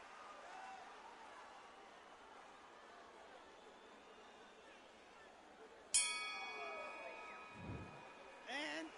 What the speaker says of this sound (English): They ring the bell, and here we go.